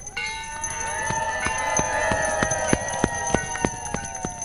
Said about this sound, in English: And there you have it, the opening bell for this Monday, January 7th